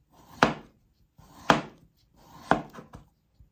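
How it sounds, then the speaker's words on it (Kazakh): A knife cuts potatoes into rounds on a board, three distinct firm chops about a second apart, followed by a lighter tap, close and clear with no talk. "Картобымызды бұлай дөңгелек етіп турап аламыз."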